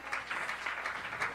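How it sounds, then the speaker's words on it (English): A congregation at a gospel youth convention claps hands together in a steady, quick rhythm, a dense run of fairly faint claps with no voices over them. "Clap your hands for the devotion leaders."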